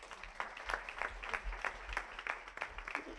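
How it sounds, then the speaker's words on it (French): Applause from a small audience greeting a startup presenter named Lucille before her pitch, moderately quiet clapping heard as distinct, fairly rhythmic individual claps over a low room hum. "Vous l'applaudissez, s'il vous plaît."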